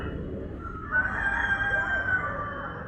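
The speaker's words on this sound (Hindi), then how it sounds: "कहीं मुर्गा चिल्ला रहा है" A rooster crows from near a roadside house, a sustained call of about a second and a half over steady background noise that suggests passing traffic.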